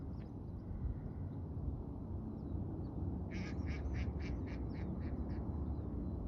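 Ducks at a neighbourhood park pond in Livermore give a quick run of about eight quacks over a steady outdoor rumble, preceded by a few fainter bird calls.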